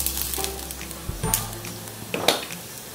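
Green chili masala roasts in oil in a pan, a low sizzle with a few sharp scrapes and clinks of utensil against metal, close and moderately quiet, with brief faint voice in the background.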